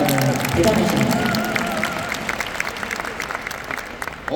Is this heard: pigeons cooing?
no